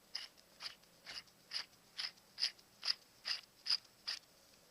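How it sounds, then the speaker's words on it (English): Ten evenly spaced ratcheting clicks come from a PSI woodworking lathe drill chuck as its three jaws are tightened, crisp and close in a quiet room. "So if I tighten this up here, you can see"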